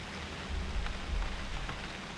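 Steady rain patters down in the UnReal World video game, a soft even hiss of drops with a faint low rumble swelling briefly beneath it.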